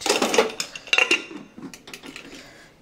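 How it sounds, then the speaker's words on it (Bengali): Metal pressure cooker lid being fitted and locked onto a pot of dal khichuri, giving a few sharp clanks and clicks followed by quieter scraping and rattles, close and without speech. "এখন আমি ঢাকনাটাকে আটকে দেবো"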